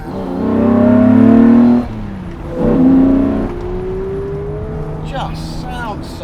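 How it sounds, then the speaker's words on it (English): A Jaguar E-Type's engine pulls away in first gear, rising in two loud, harmonic-rich surges before easing to a steady drone, with someone speaking briefly near the end. "you can sit there and start off in first"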